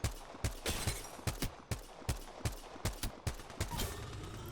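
G7 Scout rifle firing in the Apex Legends video game: about a dozen sharp, punchy shots at a fairly quick, steady semi-automatic pace, close and loud, with a brief tail of game ambience afterward.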